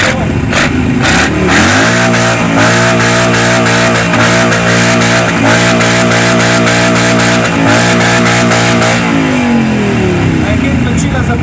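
A loud car exhaust revs hard at an exhaust volume competition during an All American car meeting, climbing into a sustained roaring drone for several seconds before dropping back.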